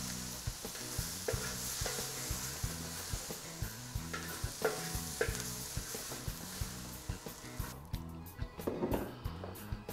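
Yellow bell pepper sautéing in an olive-oil pan, a steady sizzle under rhythmic music and occasional utensil clinks, fading toward the end.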